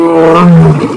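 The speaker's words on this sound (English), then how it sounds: "The greatest weapon of a lion is when it roars." A lion roaring, one deep, loud, resonant growl about a second long, up close and alone.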